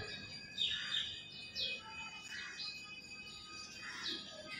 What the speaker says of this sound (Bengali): কত কাক চিল এসেছে দেখো